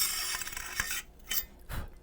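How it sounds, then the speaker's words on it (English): The barrel nut of a Blackwater Sentry 12 shotgun is unscrewed by hand, producing a few close, quiet ratcheting clicks and short metallic grinding turns with gaps between them. "Simple barrel nut, just hand tighten it on."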